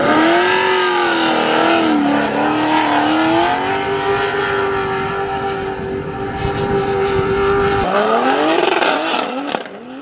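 A turbocharged BMW E46 M3 revs hard while drifting, a loud, sustained engine whine rising and falling in pitch, dipping briefly before surging again as the car slides.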